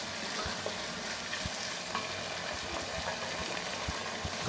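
Ginger and garlic fry in a pan for a coconut chicken curry, giving a steady, dense sizzle with faint stirring taps underneath and no talking.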